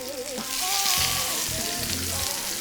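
Pepper- and salt-seasoned steak fries loudly in a pan just after being flipped, a steady bright sizzle running throughout with no talking.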